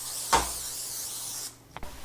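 A short hissing spray of cooking spray onto a cookie sheet lasts just over a second, close and steady, ending with a couple of small clicks.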